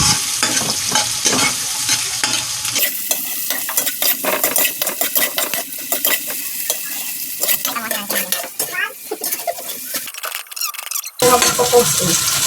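Ginger being stirred into a hot frying pan, with a steady sizzle of frying and repeated scraping and clinking of a utensil against the pan. The sound is close and fairly loud, ending in a louder burst, with no talking.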